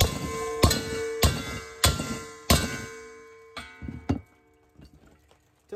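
Monkey wrenches strike the metal housing of a waste oil burner tank in a series of loud, ringing clangs, about five evenly spaced hits, each with a bright metallic decay, followed by a few fainter taps.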